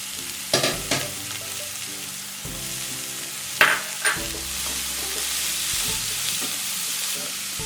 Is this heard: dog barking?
no